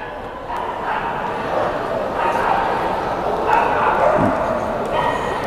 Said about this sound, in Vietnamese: Một chú chó Đực.